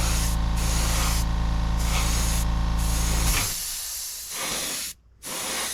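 Airbrush spraying Vallejo paint onto a styrene model, a loud continuous hiss with a compressor drone for over three seconds, then short bursts of spray with a brief gap, no talk.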